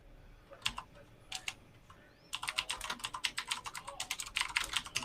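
Computer keyboard typing, sparse clicks at first, then a rapid, steady burst of clacking keystrokes close by with no talk.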